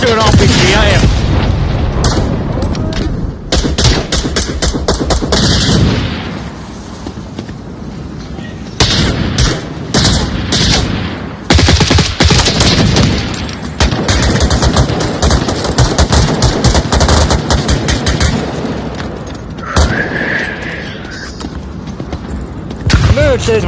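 Video game gunfire on a shooting range map: rapid bursts of loud automatic shots and heavy booms in clusters, with short pauses between volleys and a brief high electronic tone near the end.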